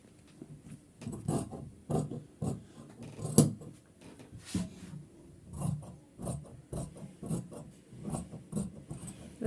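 Scissors cut fabric for a house jilbab. Steady rhythmic snips of the blades run at a regular pace, close and fairly clear, with a short louder clack partway through.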